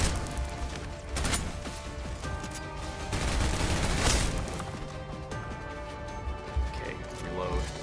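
Video game gunfire in Snowbreak, bursts of rapid shots and heavier blasts layered over a dense soundtrack and effects, with a loud peak midway and continuous action noise throughout.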